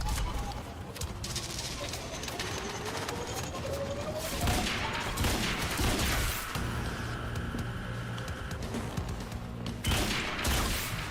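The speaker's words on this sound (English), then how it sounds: "I forgot how much better this fucking gun is" Rapid gunfire from a weapon in the video game Quantum Break, with bursts of shots and impacts over a busy soundtrack, fairly loud and continuous across the stretch.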